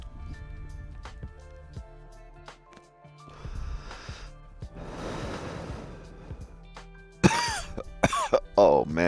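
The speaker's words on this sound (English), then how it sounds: "Oh man, I could cough all day to this." Scattered coughs and throat clearing amid clattering and rustling, ending in a couple of sharp, harsh coughs close by.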